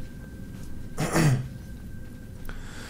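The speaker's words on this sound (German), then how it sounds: "Jetzt muss ich auch noch husten." A single harsh throat clearing with a brief cough, close and fairly loud, rising out of quiet background noise before fading, from a man with a cold during game commentary.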